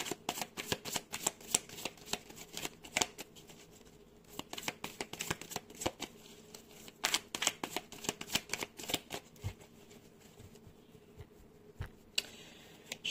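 Tarot cards are shuffled close up in rapid bursts of crisp riffling flicks and taps, repeated through the whole stretch and heard without talk.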